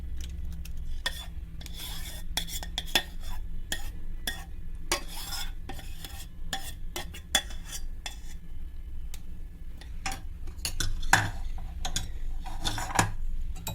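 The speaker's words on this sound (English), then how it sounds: "Whisk it well." A whisk stirs oil and strawberry sauce in a bowl, scraping and clicking against the sides in quick, steady, irregular strokes, close up and fairly quiet, with no talking.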